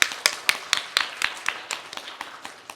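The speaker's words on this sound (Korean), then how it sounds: "우리 박수 한번 치죠." A church congregation claps in unison to a steady beat, about four sharp claps per second, loud and close at first and then gradually fading.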